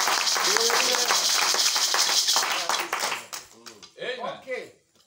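A church congregation claps together at a service, a dense burst of applause that fades into scattered claps under a speaking voice.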